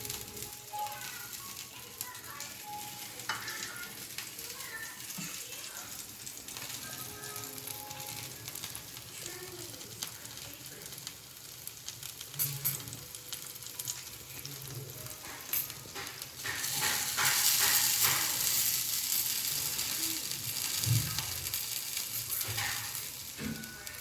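Chicken pieces sizzling on an electric barbecue grill, a steady close frying hiss with occasional clicks and scrapes, growing louder and denser in the latter part.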